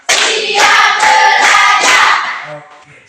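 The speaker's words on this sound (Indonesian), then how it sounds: "Untuk itu kita beri 5 kali tepukan untuk kita punya semangat pagi ini." A class of students claps in unison, several loud, evenly spaced bursts of counted claps close by for morning spirit before a lesson, then a brief fade.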